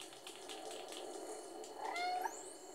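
A cat meows in the video game Stray, a clear rising mew near the end over a steady bed of game ambience and background hum.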